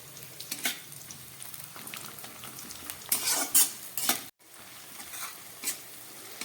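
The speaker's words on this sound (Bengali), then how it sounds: "ক্যাপসিকাম আর টমেটো ভাজা হয়ে গেছে।" Onion, capsicum and tomato fry in a pan while a spatula stirs and scrapes, a continuous soft sizzle punctuated by clattering metal scrapes and a louder burst of stirring midway, no talking.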